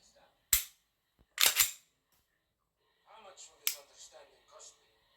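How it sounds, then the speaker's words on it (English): A hammer-fired pistol's trigger snaps during a dry function check: a sharp click, then a quick double click a second later, followed by softer handling clatter and a final click. "so pull the trigger."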